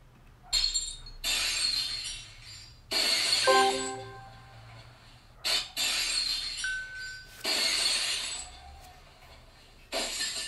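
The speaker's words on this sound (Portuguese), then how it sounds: "Então eu vou simular aqui para vocês um barulho de um vidro quebrando" Glass shards clink and crash in several separate bursts, each a bright, sharp shattering burst followed by tinkling, spaced over about ten seconds against a quiet background hum, with no talking.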